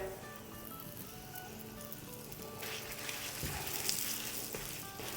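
Dal paratha cooking on a hot tawa with ghee or oil, giving a soft steady sizzle and faint crackle close by, growing slightly busier partway through, with no talking.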